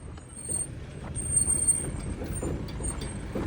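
A truck manoeuvring in reverse on a hill road, a low steady engine rumble and drone with some rattling, fairly close, heard on its own without talk.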